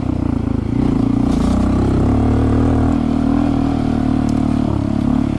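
A Honda CT125 motorcycle fitted with a big bore kit pulls away in first gear at quarter throttle, its engine note steady and loud throughout and rising slightly as it accelerates.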